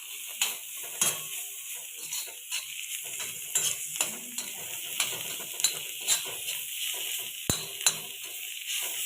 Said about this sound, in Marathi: त्यानंतर ही जी भाजी आहे ती यामध्ये आपण घालूया. पूर्ण मिक्स करून घ्यायचं आहे.